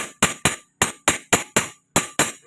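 A remaining rivet is knocked out of a Honda XRM/Wave motorcycle clutch damper. Nine sharp, evenly spaced metallic hammer strikes ring out close and loud, with no talk.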